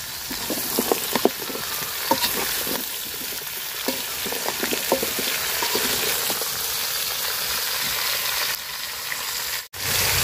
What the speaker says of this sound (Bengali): পেঁয়াজটা আমি লাল লাল করে ভাজা নিচ্ছি।